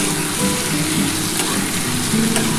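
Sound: potato and pointed gourd frying and stirred in pan

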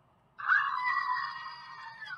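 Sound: screaming goat sound effect

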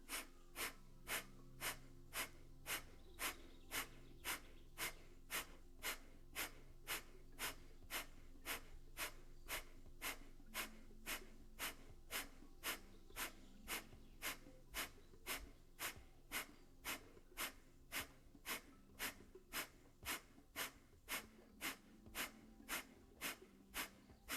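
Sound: kapalabhati yoga breathing, rhythmic forceful exhales

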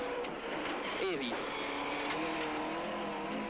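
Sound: Ford rally car driving on a forestry rally stage

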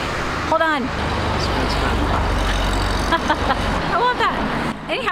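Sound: car driving by

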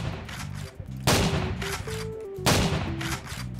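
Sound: shotgun gunfire in a Roblox video game

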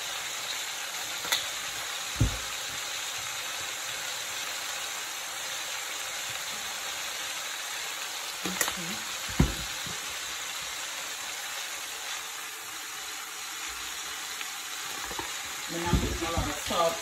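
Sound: cabbage and sausage frying in butter

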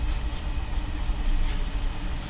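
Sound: long TCDD ore freight train wagons passing

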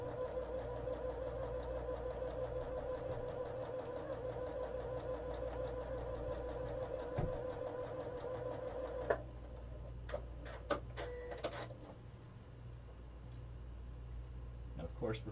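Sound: sewing machine sewing quilt pieces

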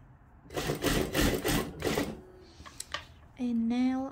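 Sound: sewing machine stitching a frill skirt dress

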